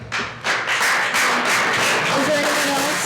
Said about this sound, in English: Please hold your clapping